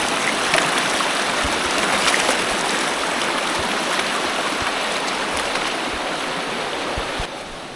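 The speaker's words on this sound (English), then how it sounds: "River's strong." A strong river in the New Hampshire mountains rushes loudly and steadily, a dense, unbroken roar of flowing water close by with no voices.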